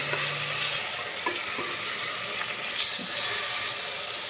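Tomatoes frying in a pan for a spicy Rayalaseema mutton curry, giving a steady close sizzle that runs throughout, with a few light stirring knocks and no talking.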